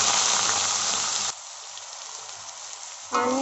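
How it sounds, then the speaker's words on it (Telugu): Onions fry in hot oil with a loud, steady sizzle. The sizzle drops sharply to a quiet crackle partway through, then surges back just as loud near the end. "ఆనియన్స్ అయితే మనం మంచిగా ఆయిల్లో అయితే ఫ్రై చేసుకోవాలండి."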